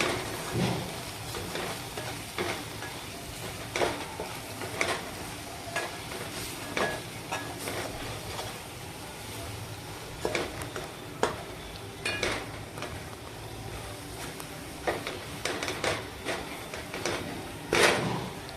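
Ground coriander-cumin, turmeric and garam masala are stirred into chickpea masala (chole) frying in a pan: a steady close sizzle runs under repeated scraping strokes of a spoon.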